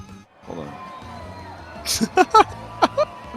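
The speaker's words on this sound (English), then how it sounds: "Do we have any other cheering?" A crowd cheering sound effect played during a Dungeons & Dragons tabletop game session, a brief burst of scattered whoops and shouts rising over low background chatter.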